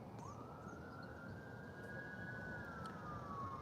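Ambulance siren crossing a bridge near the Coosa River, one long wailing tone rising then slowly falling, distant and faint over steady broadband road and wind rumble, with no talking.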